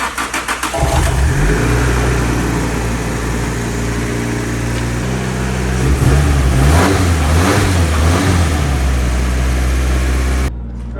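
A street-legal Nissan 180SX drift car engine cranks and catches, then settles into a steady mid-pitched idle with a few brief revs, close and fairly loud throughout.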